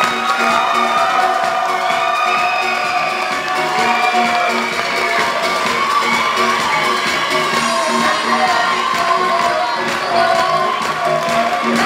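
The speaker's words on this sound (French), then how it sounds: "On les applaudit bien, tout le monde, bien fort." Audience at a Miss beauty pageant cheering and whooping for contestants, a dense crowd roar with scattered shouts and high voices, sustained throughout at close range.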